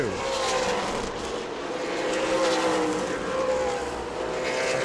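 Super late model stock cars race in a pack on an asphalt oval, their engines producing a continuous loud roar with a steady drone that swells and fades slightly as the cars pass.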